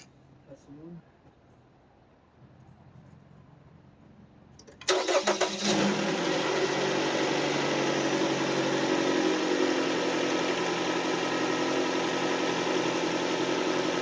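A 2014 Dodge Dart 2.4L engine with a stock cold air intake cranks and catches after a quiet lead-in, then settles into a steady, loud idle that continues to the end.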